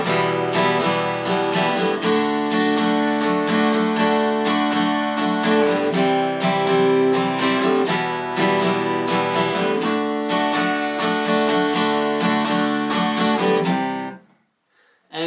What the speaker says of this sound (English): So this time I'll try a C,